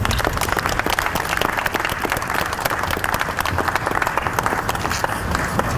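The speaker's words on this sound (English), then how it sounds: "let's give him another round of applause" At a Ghana flag raising ceremony, a crowd keeps up a dense, loud round of applause, with many hands clapping continuously and evenly for several seconds.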